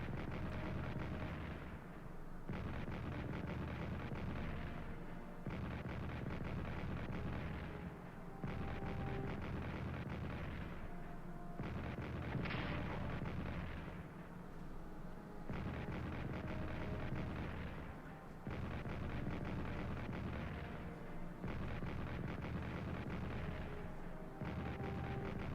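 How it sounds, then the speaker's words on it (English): French and British artillery firing on Aachen in the World War I strategy game Strategic Command, heavy booming shell blasts repeating every few seconds in a steady barrage, loud and without talk. "And the French artillery is back, firing on Aachen."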